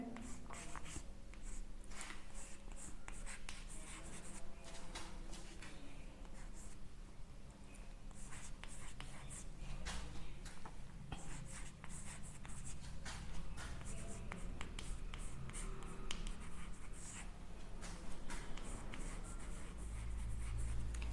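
Chalk or marker writing an English example sentence on a classroom board, a steady run of close scratchy strokes and taps continuing for about twenty seconds with no clear speech.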